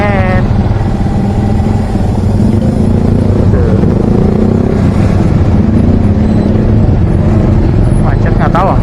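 Loud, steady engine noise from cars and motorcycles idling and creeping forward in a traffic jam on an Indonesian road fills the scene continuously at close range, with a voice faintly present.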